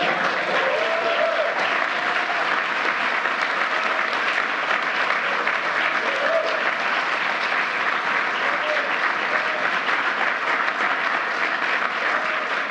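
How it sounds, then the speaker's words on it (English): A large crowd gives sustained, loud applause at a Presidential Medal of Freedom ceremony held by President Biden, a dense unbroken wash of clapping lasting over twelve seconds with no pauses. "Let's give one more round of applause for this year's Presidential Freedom recipient."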